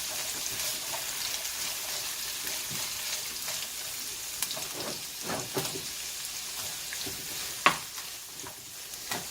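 Onions and carrots sautéing in a pan with oil from the fish, a steady close sizzle like light rain, broken by occasional scrapes and taps of a stirring utensil.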